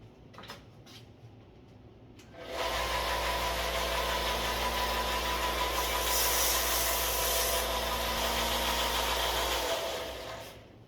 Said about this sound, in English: I'm going to take these 3 pieces over to the sander now